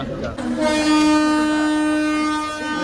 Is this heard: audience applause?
no